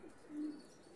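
A female pigeon coos softly once, a low, brief murmur over quiet background.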